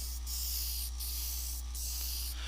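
A spray tool applies paint for a painting, giving a continuous breathy hiss throughout with brief interruptions, close and steady, with no voices.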